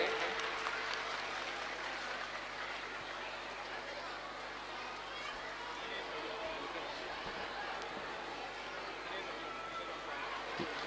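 Steady applause from the audience at a Shrimad Bhagwat Katha religious discourse, a dense wash of clapping that holds evenly for the whole stretch with crowd murmur beneath.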